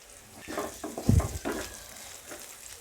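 Chopped tomatoes drop into a pan of frying cashew and makhana gravy, a brief soft thud and burst of sizzling that quickly settles into a gentle fry.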